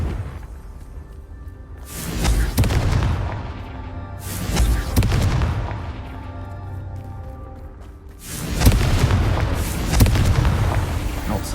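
Confringo fire spell blasts in Hogwarts Legacy, three loud booming explosions spaced a few seconds apart, each a sharp whooshing burst that decays into a rumbling tail, with a deep low background between.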